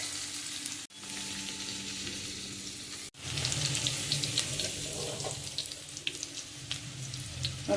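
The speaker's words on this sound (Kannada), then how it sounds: "ಒಂದು ಗಡ್ಡೆ ಈರುಳ್ಳಿನೂ ಹಾಕ್ತೀನಿ. ಅದನ್ನು ಸ್ವಲ್ಪ ಫ್ರೈ" Onion frying in a pan for a chavali kayi palya, a steady close hiss and sizzle broken by two brief gaps near the start, then swelling louder with scattered crackles and soft spatula clinks.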